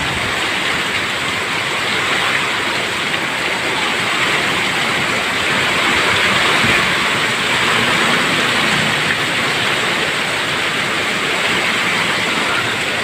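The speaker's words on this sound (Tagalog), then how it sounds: "Grabe ang lakas ng ulan." Heavy rain pours steadily outside a shop during flooding, a dense unbroken hiss with no pauses throughout, loud and close.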